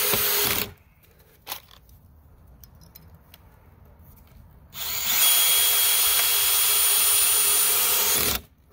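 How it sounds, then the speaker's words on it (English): A power drill driving screws into pallet wood, two close whirring bursts, a short one at the start and a longer steady run later, with faint knocks and handling sounds in the quiet gap between. "Screwing into it like so."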